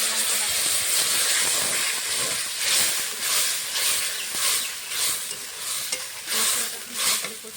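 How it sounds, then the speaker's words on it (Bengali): Bay leaf, black cumin and whole cumin seeds sizzle steadily in hot oil for a Bengali fish and potato curry, a close, continuous hiss of frying with occasional stirring and no talking. "ফোড়নে দিব তেজপাতা, কালো জিরে, গোটা জিরে"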